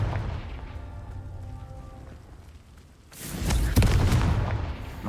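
A Confringo spell explosion in a Harry Potter video game: a low rumbling burst that starts about halfway through, with crackling debris over dull background noise and no speech.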